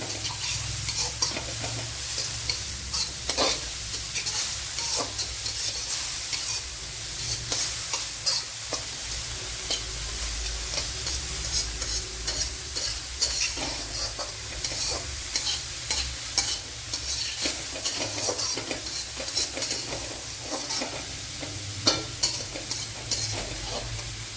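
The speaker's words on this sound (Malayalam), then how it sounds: "ഇതിനെ ഒന്ന് നല്ലപോലെ ഒന്ന് വഴറ്റിയെടുക്കണം" A handful of carrots sautéed in a pan for Kerala-style Onam semiya payasam gives off a constant close sizzle and brisk, rhythmic spatula scraping and stirring for the whole stretch, with no speech.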